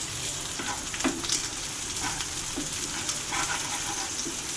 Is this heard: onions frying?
yes